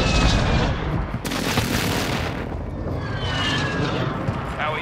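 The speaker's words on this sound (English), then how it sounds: "Friendly precision airstrike inbound." Precision airstrike explosions rip through Vondel Park in Call of Duty Warzone, loud booming blasts and crackling bursts that overlap one another, including a sharp impact about a second in, with heavy rumble underneath.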